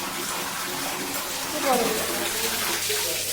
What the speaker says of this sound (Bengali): এখন ঠান্ডা জল বেরিয়েছে